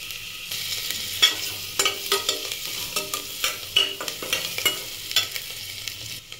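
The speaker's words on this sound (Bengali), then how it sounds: "এবার দেব কুচানো আদা রসুন, এগুলোকে হালকা নাড়াচাড়া করে নেব।" Chopped ginger and garlic stirred in a pan for chicken soup: a quick run of rhythmic spatula scrapes and taps over a soft sizzle, close and clear, with no voices.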